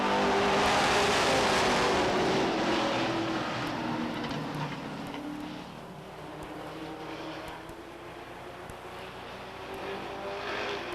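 Race cars roar past at Beech Ridge Motor Speedway in 1991, a loud close rush of engines that swells at the start, then fades into a steady distant drone of the bunched pack still circling.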